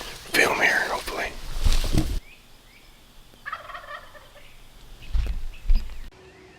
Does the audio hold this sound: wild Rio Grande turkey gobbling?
yes